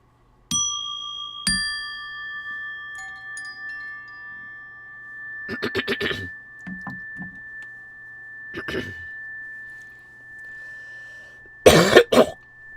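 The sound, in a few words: cough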